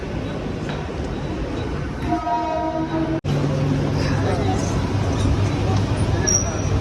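A Borivali-bound Mumbai local train rumbles along steadily, its horn sounding briefly partway through, with the rattle of cars continuing around it.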